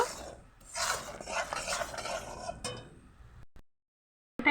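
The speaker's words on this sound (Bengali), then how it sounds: "খুন্তির সাহায্যে বারবার করে একইভাবে আমি নাড়তে লাগবো" A spatula stirs red syrup in a pan in quick scraping and rubbing strokes, close and fairly loud for a few seconds before stopping abruptly.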